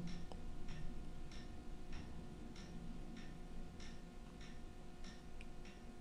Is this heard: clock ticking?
yes